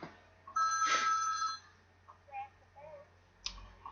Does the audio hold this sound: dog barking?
no